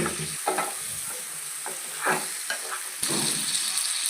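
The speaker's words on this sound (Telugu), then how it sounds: "ఇదిగోండి, బాగా ఫ్రై అయిపోయే చేపలు." Pieces of sea fish fry in oil in a pan for a fish curry, a steady loud sizzle broken by several stirring scrapes and a sharper burst of sizzling near the end.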